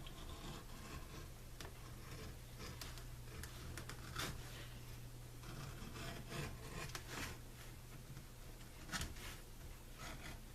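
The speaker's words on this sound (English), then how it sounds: "And I'm beveling the edges on both sides." A tool rasps along the edges of a piece of leather, steady quiet scraping strokes with occasional sharper scratches over a low constant hum, close up for about ten seconds.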